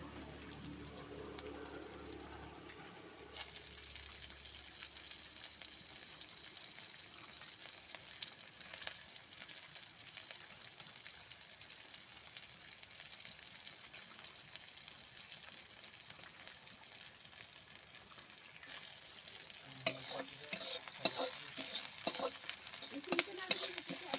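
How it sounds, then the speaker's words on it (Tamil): Sliced onions and green chillies fry in a pan with a steady, soft sizzle throughout, and stirring clatter becomes more noticeable near the end; no one talks over it. "வெங்காயம் நல்லா வதக்கிடுச்சு"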